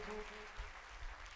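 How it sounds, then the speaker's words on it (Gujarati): Audience applause at a Shreemad Bhagvat Katha religious discourse in Simej, a faint, steady wash of many hands clapping with a brief tonal hum at the start. "બે હાથ ઊંચા કરી જોરદાર તાળીઓ પાડી"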